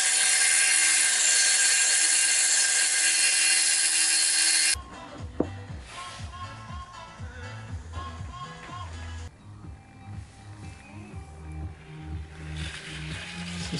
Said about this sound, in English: I need to cut a bit to fit the bottom there.